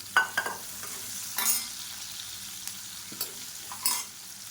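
Chopped onions and garlic fry in a pan for tiffin sambar, a soft steady sizzle close by, broken by a few scraping stirs of the spoon against the pan.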